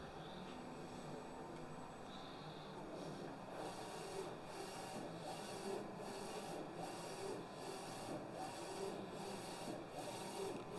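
A T-shirt printer runs a design print in a small print shop, giving a steady mechanical rasping hum with faint regular pulses as the print head sweeps back and forth, fairly quiet and without talk.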